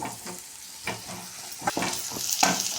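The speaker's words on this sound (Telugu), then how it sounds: "ఇప్పుడు దీన్ని ఒకసారి కలుపుకోవాలి వేగనిద్దామండి" Okra (bhindi) frying in a pan with turmeric, stirred with a spatula, giving a steady sizzle broken by several scraping stirs that grow louder toward the end, with no talking.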